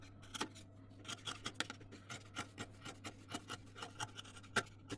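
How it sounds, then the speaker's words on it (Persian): Scissors snip away excess fabric from a sewn shirt collar, a string of quick, close, quiet cuts in an uneven rhythm. "اضافات رو قیچی میکنم"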